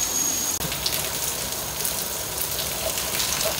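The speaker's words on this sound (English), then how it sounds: "It's raining." Steady rain falling outdoors, a dense even hiss of drops hitting surfaces with occasional closer splashes, continuous and moderately loud with no talking over it.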